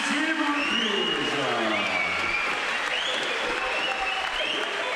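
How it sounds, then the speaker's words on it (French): Applause from a boxing crowd at a match between Franc Agalliu and Mickael Pignolo, a steady dense roar of clapping throughout with voices and cheers mixed in. "on peut les applaudir fort"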